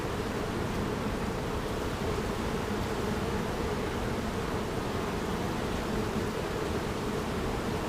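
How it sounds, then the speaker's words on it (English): Honeybees swarm around an open beehive during a hive inspection, producing a dense, steady, close-up buzzing drone that fills the whole stretch without pause or talk. "Taking my time on this one just because there's so many bees on this side."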